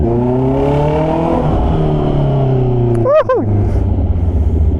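A cold Honda CB650R motorcycle engine idles to warm up, holding a steady, close droning hum before one quick rev blip near the end, then settling back to idle.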